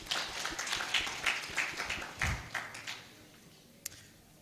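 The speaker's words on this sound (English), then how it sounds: "Please give them another round of applause." An audience applauds at a Uganda Diaspora Convention, a dense patter of clapping that holds for a few seconds, then thins and fades to near quiet.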